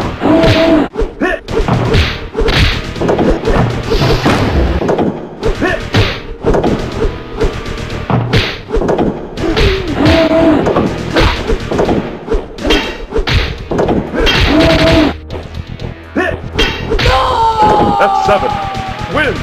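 Punches and kicks land in the Street Fighter: The Movie arcade game as repeated loud thuds and smacks in quick bursts, mixed with game music and shouts from the fighters and announcer.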